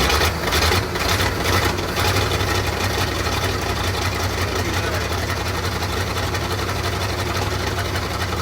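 A C60 dump truck engine runs after a jump start, a steady, loud rough chugging idle that carries throughout.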